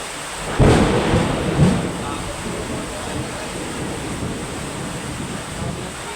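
Stormy weather with rain and wind, a loud thunder crack near the start and a second rumble after it, then steady rain and wind roar continuing through the rest.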